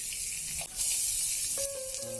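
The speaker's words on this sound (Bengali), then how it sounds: "মশলাটা আমার কষানো হয়ে গেছে" Spice paste with salt sizzles steadily in a hot pan while cooking amra chorchori, a Bengali hog plum dish, with a continuous hiss, a brief stirring clatter and a faint tonal hum near the end.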